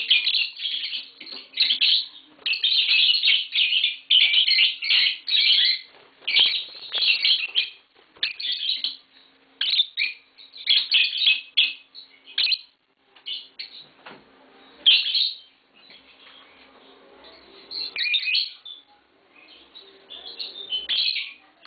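A pair of green Fischer's lovebirds chirping and singing close by, with rapid high bursts of shrill twittering broken by short pauses, over about twenty seconds.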